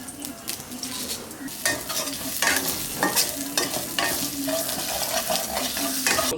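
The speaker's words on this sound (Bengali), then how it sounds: "বন্ধুরা কড়াইতে ফোড়ন দিয়ে দিলাম, শুকনো লঙ্কা," Whole cumin, dry red chillies and bay leaf tempering in hot oil in a wok, loud crackling sizzle with repeated scraping stirs.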